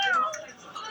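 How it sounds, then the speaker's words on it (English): A frightened cat gives a single short, rising-then-falling meow up close indoors, followed by a soft murmur of background noise. "it's all right, Kitty. Don't be scared"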